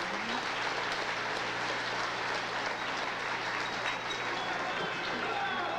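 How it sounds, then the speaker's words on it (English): A crowd at the Doug Danger stunt show in Bloomsburg, Pennsylvania, applauds from a distance, a steady wash of clapping and crowd noise over a low hum with voices underneath. "I think you deserve a round of applause for doing a great jump like this"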